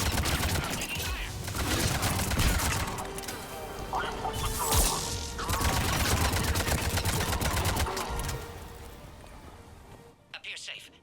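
Sustained firefight in Mass Effect 3, with rapid overlapping gunfire and impacts running steadily for about ten seconds, loud and dense, with voices calling out over the shooting before it drops away near the end.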